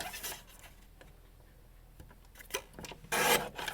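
A paper card panel is trimmed down on a crafting mat, giving quiet scraping and rubbing strokes with small taps, ending in a louder rasping swipe.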